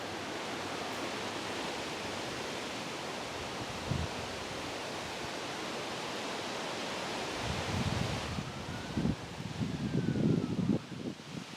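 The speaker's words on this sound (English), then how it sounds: "It's a little bit windy" Steady broadband wind rushing outdoors, with gusty rumbling buffets against the microphone growing stronger toward the end.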